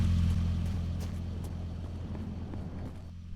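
A car engine idles steadily in a video game, a low constant hum with a faint rumble that holds at an even level throughout, with no talking over it.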